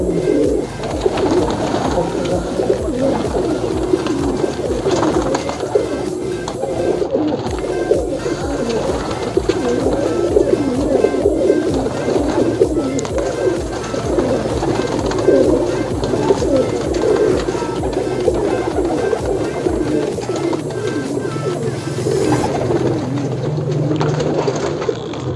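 Pigeons kept on a rooftop in Karol village coo repeatedly in soft, overlapping throaty calls, several birds close by, with low rustling and occasional wing flutters throughout.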